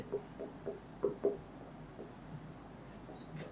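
A pen scratches out notes during a Class XI maths lesson on straight lines, with soft, faint strokes in short irregular bursts against a quiet room hum.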